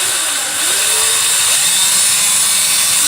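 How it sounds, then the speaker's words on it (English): A power drill boring a hole in a workpiece, starting from a small indentation, runs as a steady, loud whine close by, unbroken throughout with no talk. "try and keep the drill as straight as you can."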